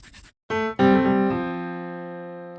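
A brief piano fill ends on a low C, the fifth, sounded by the little finger. A short note comes first, then a sustained chord rings out and slowly decays, close and unaccompanied.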